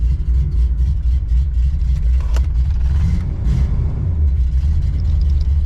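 A 1974 Corvette with a 454 engine runs after its first start of the season, giving a loud, steady, deep idle rumble close by.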